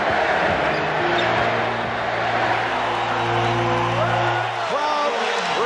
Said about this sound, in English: Crowd reacts to the entrance of Larry Bird. A standing ovation.